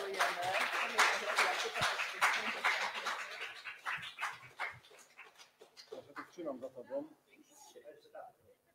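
Audience applause at an awards gala for a children's reading competition: a crowd claps in a dense burst that thins out into scattered claps, with a voice speaking over and after it.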